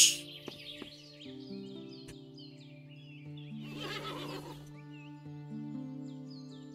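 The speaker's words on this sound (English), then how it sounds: "Hitching post. It comes with a horse." A horse at a hitching post in the Above Snakes video game gives a whinny with clopping hoof taps, set against steady game music and bird chirps.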